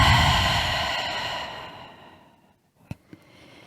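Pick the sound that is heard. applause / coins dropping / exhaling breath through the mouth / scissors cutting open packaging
exhaling breath through the mouth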